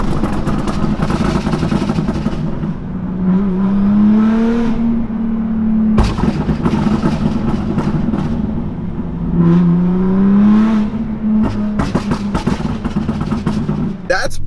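A BMW M4 with a Liberty Walk body kit and an aftermarket exhaust revs in two loud rising-and-falling sweeps, heard close in an echoing street, with a person talking alongside.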